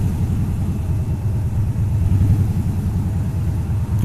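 Highway traffic on I-25 just south of Denver heard from inside a moving car, a constant low engine and road rumble that stays steady and fairly loud.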